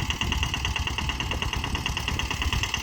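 A Jay Kishan mini tractor engine runs steadily close by, a loud continuous chugging idle with a rapid knocking pulse and a constant whine on top, with no talk.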